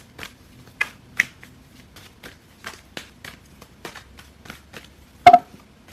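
Angel oracle cards are shuffled by hand, giving a string of soft, uneven papery flicks and taps, then a sharper, louder slap of cards near the end.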